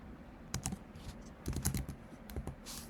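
Computer keyboard typing while writing Python code, with irregular clusters of quick keystrokes and clicks, close and fairly quiet, with no talking.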